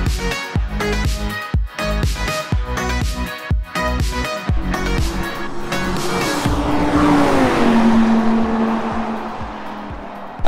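An Audi R8 with a V10 engine drives on a race circuit. It is loud and close, with sharp revving and quick gear changes, then a sustained high engine tone as it accelerates away with tire noise.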